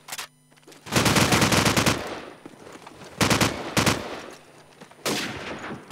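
Rapid automatic gunfire rattles in loud, repeated bursts with short pauses between them during a competitive esports video game match.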